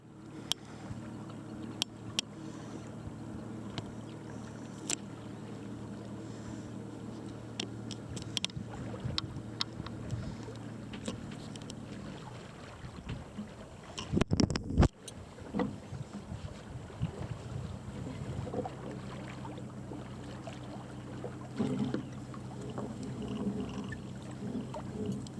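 A sailboat under way off the northwest tip of France near Roscoff, with steady wind rush and water swishing against the hull, scattered creaks and knocks, and a louder burst of clatter midway.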